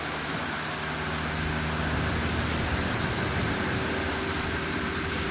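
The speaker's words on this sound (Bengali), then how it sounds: "বৃষ্টির আওয়াজটাকে একবার ফিল করো।" A heavy downpour with gusty wind comes through an open window as a constant, close rush of rain, with faint traffic rumble beneath and no talk.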